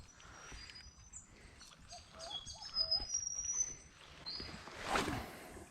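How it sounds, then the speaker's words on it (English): Birds chirp and call in short, scattered phrases at moderate distance in the Australian bush of the Hunter Valley, with a brief louder rustle or burst near the end, set against quiet outdoor ambience. "all you can hear is the birds"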